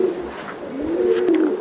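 A green-necked female pigeon coos steadily in a low, rolling voice, close and fairly loud over a faint hiss of background noise, with no talk.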